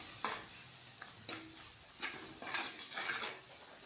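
Chili powder sautéed in a pan for kuzhambu, a soft background sizzle broken by repeated spoon scrapes and stirring strokes at an irregular pace, close but fairly quiet.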